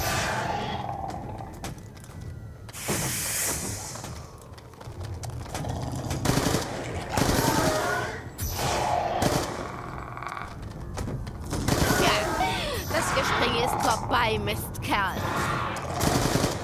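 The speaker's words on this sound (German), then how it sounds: "ich schieße sie natürlich ab" Machine-gun and rifle fire aimed at zombies in Black Ops 2 zombies mode on the Die Rise map, repeated loud bursts mixed with creature roars and snarls while someone talks throughout.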